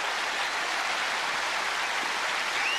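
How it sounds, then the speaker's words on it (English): A tennis crowd at the 1981 Australian Open final applauds a saved match point, a steady hiss-like roar of distant clapping from a large stadium audience that holds evenly throughout without pause. "And listen to that applause for Denton."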